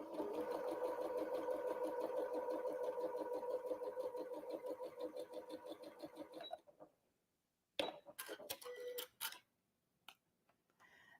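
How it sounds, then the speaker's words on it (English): A sewing machine stitches a seam on a barn star quilt block, a steady rapid mechanical chatter running for several seconds before stopping, followed by a few sharp clicks and clatters of handling. "So I'm going to just bring this over and sew right on that line."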